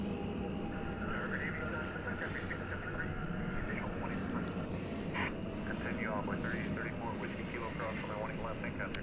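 An airliner arriving at Dallas Fort Worth airport after an 11-hour flight from the Iberian Peninsula, its steady broad engine roar sustained throughout with faint chatter and scattered background noise mixed in.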